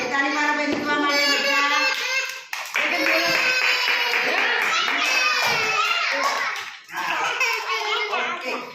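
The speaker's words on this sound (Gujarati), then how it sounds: "તાળી મારો ભાઈ નીકળવા માટે" Children clap their hands together in a lively burst amid excited kids' voices and chatter, the clapping and talk overlapping almost throughout.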